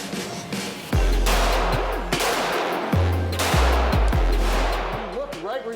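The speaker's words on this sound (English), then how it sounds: "So you're gonna load it, aim, shoot, and now it's live and you can shoot." A handheld gun fires a few loud, sharp shots at irregular intervals, each a sudden close blast with a short decay, with people talking between the shots.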